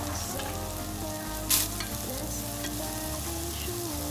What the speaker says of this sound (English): then add in the carrots. You'll want to saute these vegetables